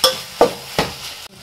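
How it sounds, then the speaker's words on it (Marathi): Minced mutton dropped into a hot frying pan, three sharp sizzling bursts with quieter frying between them, close and short. "आतां खिमो घालता तितून."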